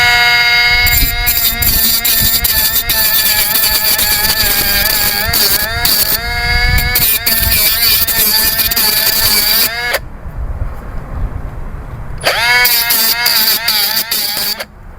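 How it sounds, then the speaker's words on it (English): Cutoff wheel grinding through a 1973 Harley Sportster frame, a loud, sustained high-pitched whine that wavers in pitch as it bites the steel, stopping briefly near the end before starting up again. "we're just going to come at this with the cutoff wheel."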